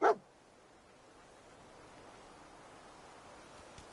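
Dogmeat, the dog in Fallout 4, gives one short sharp bark at the start, followed by quiet ambient hiss.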